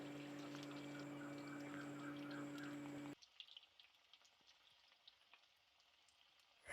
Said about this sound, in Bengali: তো প্রত্যেকটা আমি এইভাবে ভেজে নেব